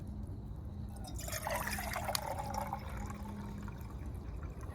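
Well water pours and splashes into a container, a steady liquid trickle building in the middle and easing off, heard close over a low background hum.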